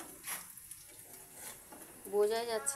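Dried fish (shutki) with onion fries in a pan, producing a soft, faint sizzle and stirring scrape, with a voice briefly heard near the end.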